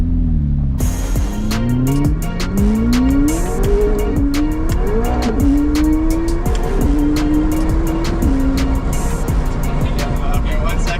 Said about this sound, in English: We even caught a little bit of a drift when we launched.